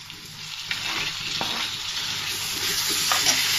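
Tomatoes frying in a pan of curry with ginger paste for dry fish egg curry, giving a steady close sizzle broken by a few soft stirring clicks, with no one talking.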